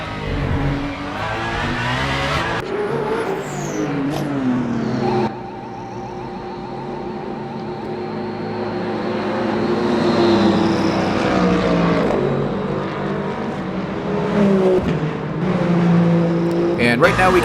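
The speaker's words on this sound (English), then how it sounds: "Here is the number 36 Alpine coming in for a pit stop." A GT3 Alpine race car, number 36, entering the pit lane in Le Mans Ultimate, engine droning and shifting pitch over trackside noise, with a commentator talking throughout.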